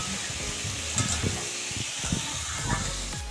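Prawns and fig sizzle and hiss in hot oil, a soft continuous crackle with a few scraping stirs, fairly quiet.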